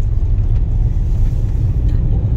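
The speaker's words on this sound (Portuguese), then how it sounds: "Ó, o caminhão de madeira aí, ó madeira, pinos, pinos." A timber truck carrying pine logs rolls past on a road in Blumenau, Santa Catarina, a steady low rumble of engine and tyres close by with no talk.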